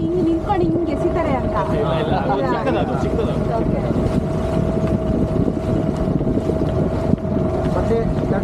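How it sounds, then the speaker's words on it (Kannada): A fishing boat engine running at sea off Kundapura: a steady, droning hum held throughout, with heavy wind buffeting the microphone and faint voices now and then. "ಫಿಶಿಂಗ್ ದೊಡ್ಡ ಬೋಟ್ ಇದೆಯಲ್ಲ, ಅದು ಜಾಯಿಂಟ್ ಆಗಿ ಎರಡು ಜಾಯಿಂಟ್ ಆಗಿ ಹೋಗುತ್ತೆ"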